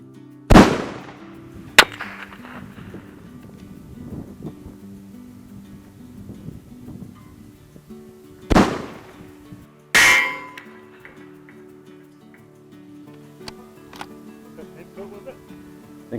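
Loud sharp rifle reports from a Tikka T3X chambered in .260 Rem firing at long range in Australia, two main blasts with extra cracks and echoing tails over a quiet outdoor background with faint voices.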